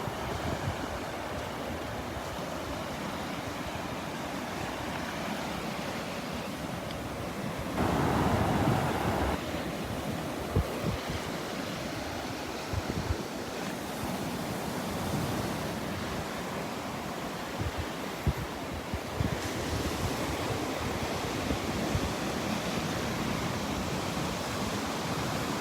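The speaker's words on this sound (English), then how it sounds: "Look at those waves." Ocean waves rolling onto Delnor-Wiggins beach during a morning walk, a steady broadband roar of surf with swelling breaks and some wind buffeting the microphone, no one speaking.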